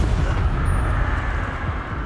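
A Hogwarts Legacy Incendio fire spell cast in combat, giving a low rumbling whoosh of flame that holds steadily for about two seconds, with no voices.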